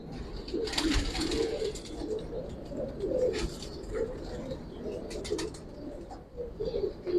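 Giribaz pigeons coo in a loft, a soft repeated burbling cooing in overlapping phrases close by, with occasional light rustles and brief sharp scratchy bursts in between.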